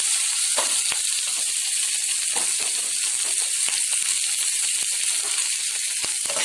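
Green chillies and curry leaves sautéing in a pan for a spicy millet (kambu) kozhukattai, giving a steady, loud, continuous sizzle with faint crackles and occasional light clicks throughout, no voices.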